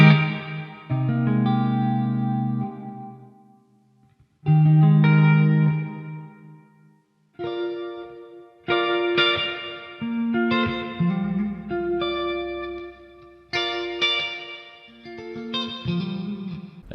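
Electric guitar played through the STL Tones Lasse Lammert Tonality plugin with a long, spacey delay and chorus-style effect, ringing chords and sustained notes swelling and trailing off in echoes, with short gaps between phrases and no voices.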